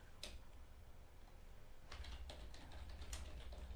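Faint, scattered clicks of typing on a computer keyboard while searching eBay, quiet and fairly close, with a slightly denser run of keystrokes in the second half and no talking.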